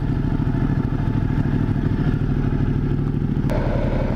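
Steady loud engine drone of a Ducati Multistrada 1200 Enduro motorcycle ridden standing up, with a short jolt and clatter as it rolls over a speed bump, no talking over it.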